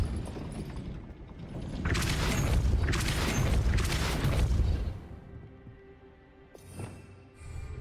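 Depulso force spell cast in Hogwarts Legacy: a loud, dense whooshing blast swells and holds for about three seconds, then falls away to quieter game ambience with a faint later thump.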